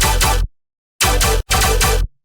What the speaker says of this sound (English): bunch of different types of stomp-based one-shots